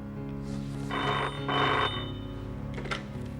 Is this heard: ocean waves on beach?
no